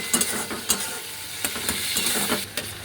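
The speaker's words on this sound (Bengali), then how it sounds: "অল্প মশলাটাকে ফ্রাই করে নেব" Spices fry in a pan for an eggplant and hilsa fish curry, giving a continuous close sizzle punctuated by repeated clicks and scrapes of a stirring utensil.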